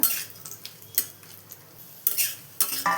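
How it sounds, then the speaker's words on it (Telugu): Cashews, raisins and almonds stirred in a pan over low heat, with a few scattered spoon scrapes and clinks against the metal over a faint, quiet sizzle, close by and without talk. "ఇప్పుడు జీడిపప్పులు, కిస్మిస్, బాదంలు సిమ్లో పెట్టుకొని వేయించుకోవాలి"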